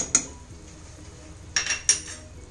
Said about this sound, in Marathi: आता आपण ह्याच्यावरती झाकण ठेवून देऊया